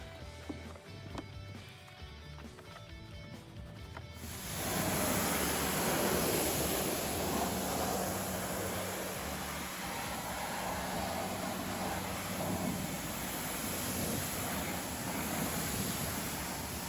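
An AVA pressure washer rinses the wheels of a VW Golf R and VW Up! GTI, its spray starting abruptly partway through as a steady, loud hiss that continues to the end.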